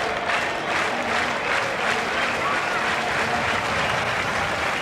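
A cricket crowd at Adelaide claps steadily for an incoming batsman during a 1996 Pakistan versus Australia match, a dense, even wash of applause with a faint murmur of voices.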